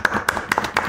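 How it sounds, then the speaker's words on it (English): Light applause for a local football fan podcast's end-of-year award: a handful of sharp claps in an uneven rhythm, close and brief, from only a few pairs of hands. "Light applause for that."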